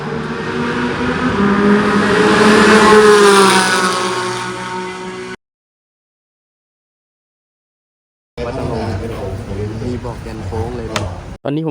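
Supercar engines, including a Mustang, roar and rev loudly at a supercar racing event in Thailand, rising to a peak, then cut to silence before another engine growls back in.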